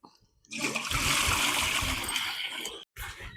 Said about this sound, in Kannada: ಕಡ್ಲಿ ಬೇಳೆನ ಚೆನ್ನಾಗಿ ತೊಳ್ಕೊಂಡಿದೀನಿ